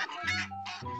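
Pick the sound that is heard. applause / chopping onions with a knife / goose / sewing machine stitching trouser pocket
goose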